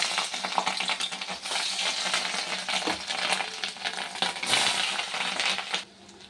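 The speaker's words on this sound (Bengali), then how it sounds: "এবার ডিমটাকে ভালো করে ধুয়ে নুন মাখিয়ে নিয়েছি, আর ভেজে নেব" Salted fish roe frying in oil in a wok makes a dense, crackling sizzle with uneven spattering pops and scrapes, loud and close throughout before dropping away at the very end.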